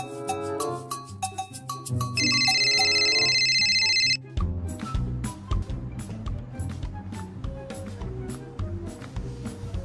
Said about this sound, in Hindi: इतनी देर से तुम्हारा फोन बज रहा है